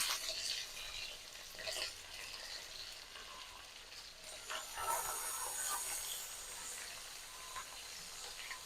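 Ivy gourd pieces fry with dry coconut in a pan, a faint continuous sizzle with occasional scrapes and crackles heard from close by, with no voices.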